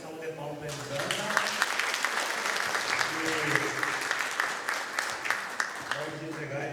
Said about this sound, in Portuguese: uma grande salva de palmas para a Elisandra